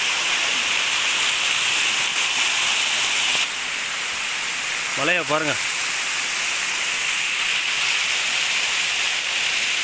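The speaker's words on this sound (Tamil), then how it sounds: "பள்ளத்தில் ஊற்றுது இந்த அருவி." The Kuttupatti waterfall pours into a deep pit, making a steady, loud roar of rushing water throughout, with people talking over it and a brief voiced call near the middle.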